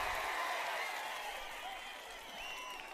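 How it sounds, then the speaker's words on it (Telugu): A crowd at an outdoor political rally claps steadily, a dense, even wash of applause that holds for the whole stretch, heard from a slight distance. "అవును అంటే గట్టిగా చప్పట్లు కూడా చెప్పండి"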